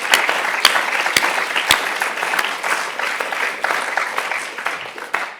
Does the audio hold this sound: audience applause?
yes